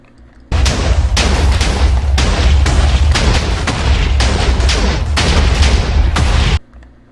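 A rapid series of heavy booming cannon blasts in a video game, loud and close, firing repeatedly for several seconds before stopping abruptly.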